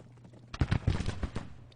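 Rifle fire from Civil War skirmishers in the strategy game Grand Tactician, a short, somewhat distant burst of several overlapping muffled shots that fades out quickly, with no voices.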